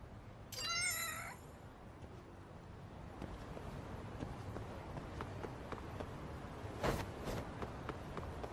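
A cat meows in the video game Lost Judgment, a short rising-and-falling call near the start, followed by quiet background ambience and a brief soft noise burst later.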